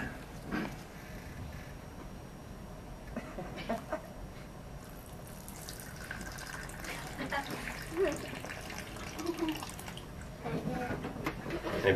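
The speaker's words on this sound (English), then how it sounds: "we're going to take the mysterious, never-ending water and pour it into the cup" Water is poured into a small Dixie cup, a soft, continuous trickle and splash set against low background noise, with a few louder bumps along the way.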